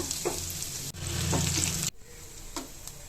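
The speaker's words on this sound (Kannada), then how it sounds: "ಈಗ ಶುಂಠಿ ಬೆಳ್ಳುಳ್ಳಿ ಕೆಚ್ಚಿಟ್ಕೊಂಡಿರ್ತೀವಲ್ಲ ಅದನ್ನು ಹಾಕೊಂಡು ಫ್ರೈ ಮಾಡ್ಕೋಬೇಕು" Ginger, garlic and curry leaves sizzling loudly in hot oil in a pan, with a steady close hiss and a few quick stirring scrapes, then the sizzle drops quieter.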